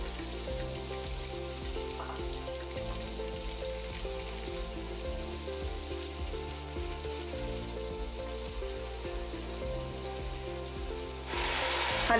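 Onions sizzle and fry steadily in hot oil with whole garam masala for a bell pepper and spring onion chicken curry, a close, continuous crackle with occasional stirring and a brief louder burst near the end.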